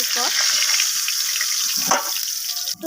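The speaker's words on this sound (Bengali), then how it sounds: "আর এখানে আমি মাছের মাথাটাকে ভেজে নেব" A fish head rubbed with salt and turmeric fries in hot oil, giving a continuous bright hiss and crackle up close, with a few clattering utensil knocks near the end.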